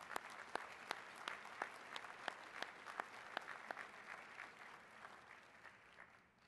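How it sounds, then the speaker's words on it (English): A luncheon audience applauds mayors and their representatives at an awards event; scattered individual claps ring out above a thin, fairly quiet ripple of clapping that tapers off toward the end, with no talking. "let's join together in applause for these mayors and their representatives."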